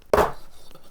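A single sharp chop of a Chinese cleaver through meat with connective tissue and fat on a cutting board, one crisp close impact followed by a short fading tail.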